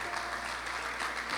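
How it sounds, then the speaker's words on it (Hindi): Church congregation at a dedication service applauding, a dense even wash of clapping from many hands throughout the short stretch. "जोरदार तालियां दोनों घरानों के लिए।"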